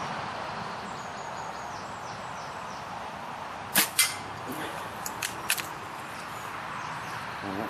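An SFS air rifle fires pellets at a paper target card outdoors. A pair of sharp, close cracks comes first, then a few lighter snaps and ticks follow a moment later.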